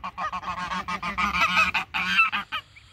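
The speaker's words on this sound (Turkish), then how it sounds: "Hindiler, kazlar var." A flock of farm geese honk loudly and close in rapid, overlapping calls, a dense chorus of nasal cries with no talk.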